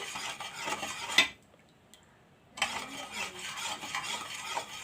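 Salt and sugar being stirred into water for lime juice, a near, continuous metallic scraping and clinking of a spoon against a glass or vessel, which stops for about a second before resuming.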